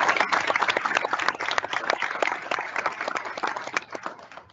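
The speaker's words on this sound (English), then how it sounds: "just give them one more round of applause" An audience at a STEM Girls Change the World livestream event gives a steady round of applause to the women just introduced, dense overlapping clapping sustained throughout without speech.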